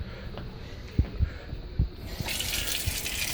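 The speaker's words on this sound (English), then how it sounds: "I'm gonna put this into some cool water." A hot recycled HDPE plastic part is dropped into cool water, giving a few soft thumps and sloshes followed by a steady hissing gush of water, close and fairly loud.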